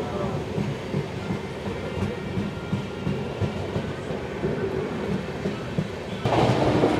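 A packed Tirumala Express passenger train between Rajahmundry and Anakapalli rumbles along steadily from inside a coach, with a continuous low clatter of wheels on rails that swells louder near the end.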